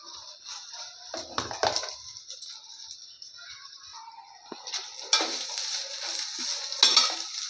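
Grated coconut is tipped into a pan and stirred with a metal spoon while cooking arachuvitta sambar spices, with scraping clinks and a soft sizzle, louder bursts of clatter early and again near the end.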